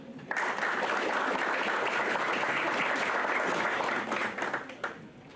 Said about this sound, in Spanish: Lo escuchamos y lo recibimos con un fuerte aplauso.